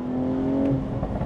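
A 2025 BMW Z4 M40i engine revs loudly and close by in sport mode, a dense growling roar that swells and eases within a second or so, with exhaust crackling.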